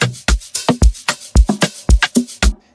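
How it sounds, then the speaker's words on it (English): Four-on-the-floor kick drum programmed for an Amapiano beat in FL Studio, punchy and loud with steady regular thumps layered with crisp percussive hits, stopping abruptly at the end. "Next is the kick, and I'm simply going to go with the four step."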